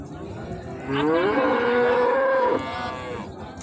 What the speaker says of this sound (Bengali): কোয়ালিটি সম্পন্ন আরও একটা গাভী